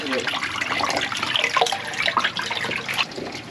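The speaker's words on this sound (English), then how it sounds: "Here's the dirty water. We're gonna drain it." Dirty gray water drains from an RV tank with a steady, close rushing and splashing that fills the whole span, with a faint voice now and then.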